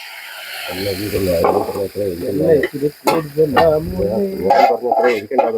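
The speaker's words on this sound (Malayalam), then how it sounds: "നമ്മൾ വാങ്ങി വെച്ചിരുന്ന നമ്മുടെ പോത്ത് കറിയിലോട്ട് ആ കടു വറുത്ത് വെച്ച് താളിച്ചു കൊടുക്കുകയാണ്" Mustard seeds fried in hot oil for tempering buffalo beef curry crackle and sizzle loudly up close in a steady hiss, broken by sharp pops and stirring scrapes, with a voice talking underneath.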